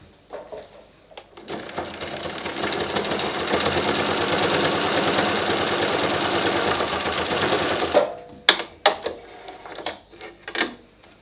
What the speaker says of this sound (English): I like to do a second line of stitching